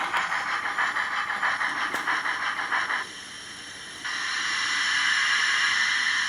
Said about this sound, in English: it's just detected the train has stopped moving, so it's making less exhaust noise. That's the brakes.